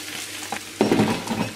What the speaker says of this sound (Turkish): Ve artık son olarak kabarmış olan bulgurumu ilave ediyorum.